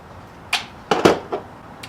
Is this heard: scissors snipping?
no